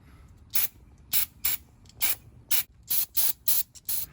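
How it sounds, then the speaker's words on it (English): Penetrant lubricant sprayed from an aerosol can onto the front strut nuts of a 2013 Ram 1500 4x4 with the wheel off, heard as about nine short, sharp hissing bursts with brief pauses between them. "we're spraying penetrant lubricant on the nuts that we're going to be removing"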